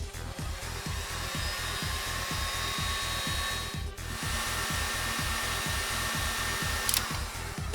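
A heat gun blows with a steady whirring hiss at close range while heating a solder seal connector on motorcycle wiring, with a fast rhythmic pulsing running under the continuous airflow.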